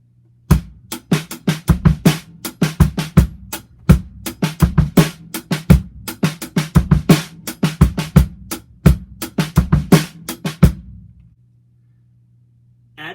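A drum kit plays a slow beat in 7/4 time with closed hi-hats and no open hi-hats, steady kick, snare and hat strokes in a lopsided repeating pattern, close and clear, then stopping into near silence.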